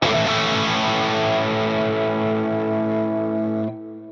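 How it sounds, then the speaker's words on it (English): A sustained, moderately overdriven electric guitar chord from a Fractal FM9 rings out loud and full, slowly fading before cutting off near the end. "Just a beautiful, beautiful overdrive sound, not too saturated."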